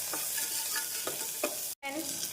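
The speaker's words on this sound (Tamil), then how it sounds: "நறுக்கிய வெங்காயத்தை சேர்த்து விடலாம் வெங்காயம் சேர்த்து ஒரு நிமிடம் வதக்கிய பின்" Onions sizzling and sautéing in a pan for vegetable kurma, with a steady hiss and a few soft stirring scrapes, close by, and a brief dropout near the end.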